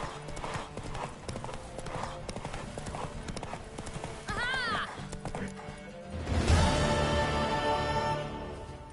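Rapid hoofbeats of a galloping horse in The Witcher 3: Wild Hunt pound steadily, with a brief whinny partway through and a louder rumbling burst near the end.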